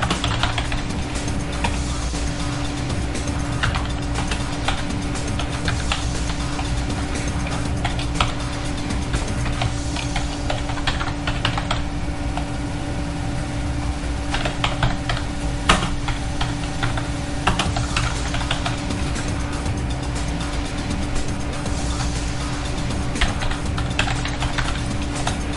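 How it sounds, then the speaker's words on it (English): Continuous clicking of keys on a computer keyboard as commands are entered at a prompt, an irregular run of close, steady typing with no talking. "We're going to continue typing what's written in the procedure."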